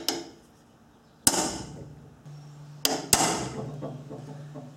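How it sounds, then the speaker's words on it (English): A few sharp, ringing hammer strikes on the end of a metal nail setter against a snapped strut bolt, spaced irregularly with quiet gaps between, close and fairly loud. "I'm just going to hit the end of the nail setter with a hammer."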